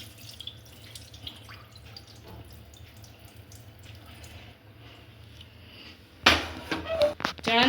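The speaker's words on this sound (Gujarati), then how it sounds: "પહેલાં સૌપ્રથમ આ પાણી કાઢી લઈશું" Soaked chickpeas for chole have their soaking water drained off in a home kitchen. At first there is only a faint trickle and a few drips. Near the end a louder, splashy pour of water comes in close by, with no talking.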